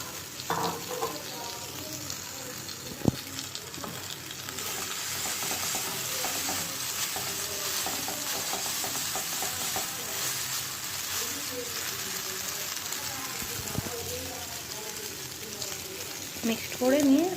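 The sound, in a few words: stir-frying boiled Maggi noodles with carrot, tomato and onion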